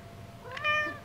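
A house cat gives one short rising meow, fairly soft and close, in a quiet room with no one talking.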